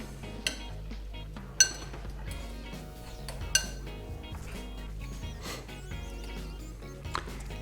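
Beer bread batter made with Bourbon Imperial Stout being mixed in a bowl, giving soft, wet stirring with occasional sharp clinks of a utensil against the bowl, close and quiet over a low steady hum.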